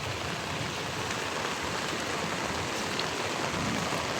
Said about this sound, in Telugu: ఇంత వర్షం వచ్చింది చూడండి